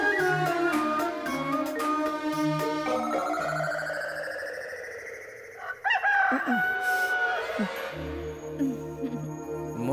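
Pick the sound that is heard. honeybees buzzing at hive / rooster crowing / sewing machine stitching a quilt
rooster crowing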